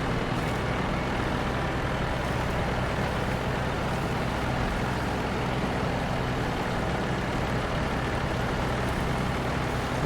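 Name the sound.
truck engine driving in SnowRunner, from a video game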